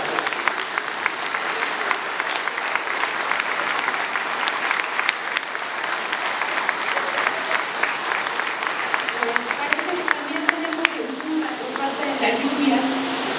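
An audience at a book presentation applauds steadily and fairly close, the clapping dense and sustained throughout before thinning slightly near the end.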